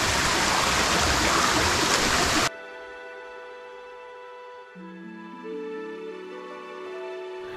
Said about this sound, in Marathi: कळणे असं या नदीचं नाव इथल्या सह्याद्रीत उगम पावणारी ही नदी